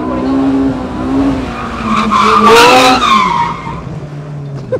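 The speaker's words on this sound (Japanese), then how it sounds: "どう、あのドリフト。" A Honda S2000 drifting in a drift match, its tires skidding and squealing loudly over engine roar for several seconds, rising to a peak midway before easing off.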